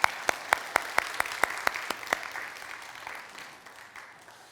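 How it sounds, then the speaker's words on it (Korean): Congregation applause in a church during a Wednesday prayer meeting, rhythmic unison clapping at a steady beat of about four claps per second, fairly close, then trailing off into a soft fading patter. "다시 한번 권사회 성지순례팀과 함께 박수로 하나님께 영광 올려드리겠습니다."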